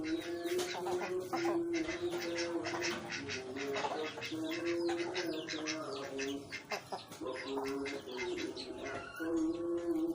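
Tame white pigeons feeding nearby, with steady low cooing and soft clucking calls repeating throughout amid busy fluttering and pecking, while a voice speaks intermittently over the birds.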